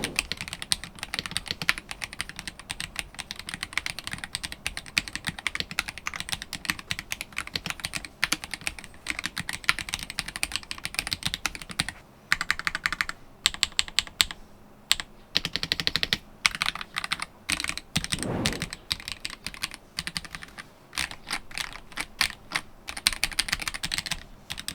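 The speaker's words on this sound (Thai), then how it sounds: "เดี๋ยวไปฟังเสียงการพิมพ์ของไอ้เจ้าสวิตช์ Starburst ตัวนี้กัน" Typing on a Mchose JET75 Hall-effect 75% keyboard with Starburst switches: rapid, continuous key clacks close to the mic, with a few short pauses and a brief deeper thump near the end, no talking.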